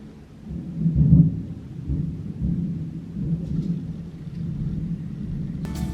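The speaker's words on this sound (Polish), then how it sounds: "Teraz będzie grzmot głośny." Low thunder rumbles on for several seconds, swelling then rolling steadily, heavy and somewhat distant.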